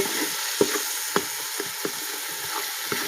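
Prawns frying in a pan for prawn biryani, a close, loud sizzle with intermittent sharp spatters and stirring clicks.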